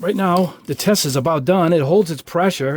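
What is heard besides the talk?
None of the usual background noises is heard.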